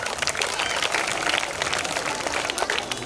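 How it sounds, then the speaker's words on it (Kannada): Applause from a crowd at a Navratri festival program with magic and puppet shows, brisk continuous clapping, fairly loud and close, with faint voices mixed in. "ಒಂದು ಜೋರಾದ ಚಪ್ಪಾಳೆ ಬರಲಿ ಪುಟಾಣಿ"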